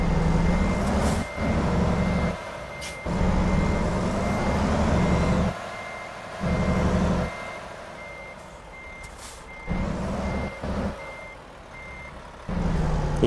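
Truck reversing alarm in American Truck Simulator: a steady series of loud, evenly spaced beeps over a low diesel engine drone, with brief gaps between pulses.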